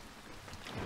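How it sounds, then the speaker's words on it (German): Rain falls in the video game A Bird Story, a brief, soft, steady hiss heard alone without any talk. "Wir gehen einfach durch den Regen."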